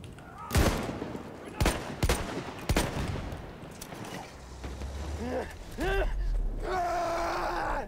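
Battlefield 1 gunfire from the First World War shooter cracks out as several sharp single shots amid mechanical creaks and groaning battlefield ambience, with a dense burst of rapid fire near the end.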